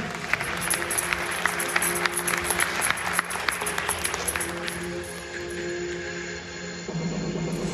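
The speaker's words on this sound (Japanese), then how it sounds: "拍手をお送りください" An audience at a bodybuilding competition claps enthusiastically for several seconds, sharp individual claps standing out, before the applause fades into a steady murmuring room.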